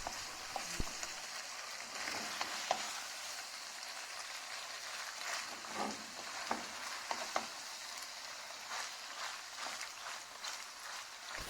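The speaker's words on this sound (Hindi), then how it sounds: "मैकरोनी और चिकन को अच्छी तरह हमने मिक्स कर लेना है।" Boiled macaroni and spicy chicken being stirred together in a hot pan, giving a steady soft sizzle with faint scraping and occasional clicks of a utensil against the pan.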